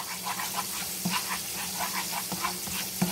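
Shrimp frying in butter in a pan, a steady crackling sizzle with scattered pops and soft clinks of utensils, heard up close without talking.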